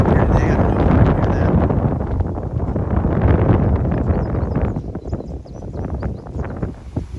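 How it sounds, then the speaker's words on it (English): Strong wind buffeting the microphone at a Shenandoah National Park mountain overlook, a loud continuous rushing roar that surges and eases, with no talking. "It's pretty windy up here today"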